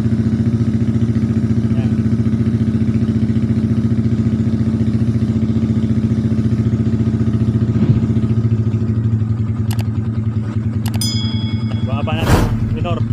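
A Sniper 135 motorcycle engine bored to 150cc with a 57mm block, racing cam and racing CDI idles loudly and steadily nearby, with clicks and a brief clatter near the end as a voice speaks briefly.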